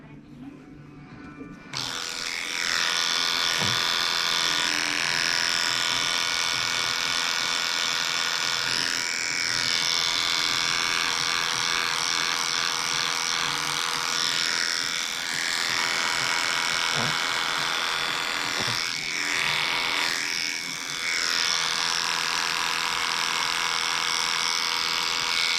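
Electric clippers fitted with a #15 blade trimming a Shih Tzu's fur, a steady close motor buzz running continuously with slight changes in pitch and load as the blade moves through the coat.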